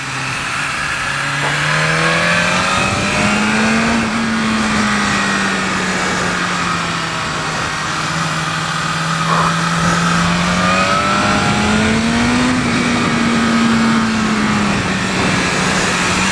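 A 2020 BMW S1000RR motorcycle engine revs steadily while riding, its pitch rising and falling in long smooth swells, loud and close with constant wind rush and no talk.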